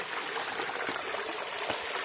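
A small waterfall on the Pawankhind trail, running low outside the monsoon, gives a steady, even rush of falling water, close and continuous with no voices over it.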